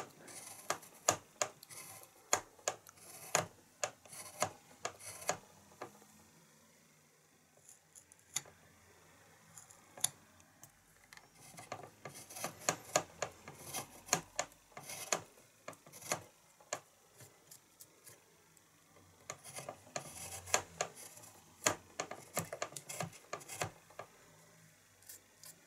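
A hand carving tool scrapes and clicks on wood while goldfinch tail feathers are carved, in quiet, close, irregular bursts of short strokes separated by brief pauses.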